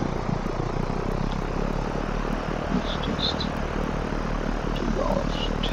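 Simulated light aircraft taxiing at Roskilde Airport in Denmark in X-Plane, a steady broadband engine drone with a faint high buzz, continuous and even throughout with no speech.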